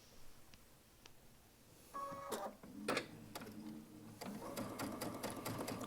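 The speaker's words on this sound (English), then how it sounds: "Now I'm going to just run it along the opposite edge of that strip of fabric." A Baby Lock Altair sewing machine with a gathering foot stitching a fabric strip, quiet ticks at first, then bursts of rapid mechanical whirring and stitching clatter that start, pause and resume close by.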